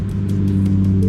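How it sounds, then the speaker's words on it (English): A 2025 Ford Raptor R truck engine runs close by with a deep, steady idle, its low rumble holding even and loud all the way through, with faint rhythmic pulses above it. "They're gonna jump in here, they're gonna start this truck, y'all."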